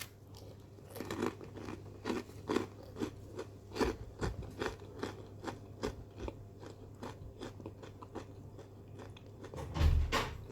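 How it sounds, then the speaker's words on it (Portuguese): Someone chews crisp pão de queijo cheese bread made with sour manioc starch, giving a steady series of close crunchy bites and chews with a few louder crackles, no talking. "Dá pra ouvir o barulhinho de eu mastigando?"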